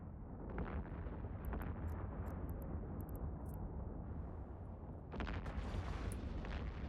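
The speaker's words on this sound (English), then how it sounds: "I love the look of the explosions." Game explosions in Eve Online, a low rumbling roar with bursts of crackling debris, steady and moderately loud throughout.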